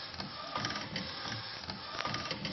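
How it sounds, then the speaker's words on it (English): A DIY Epson R1900 printer converted to UV LED printing lays ink across the full width of the material, its print head shuttling with a faint, steady mechanical whir and soft rhythmic clicks. "And you can see it's printing the full width of the material."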